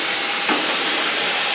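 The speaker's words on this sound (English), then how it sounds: "the steam's coming out really well" Steam hisses steadily and loudly from an All American pressure canner processing raw-packed chicken breast, a continuous broad rush with no voices.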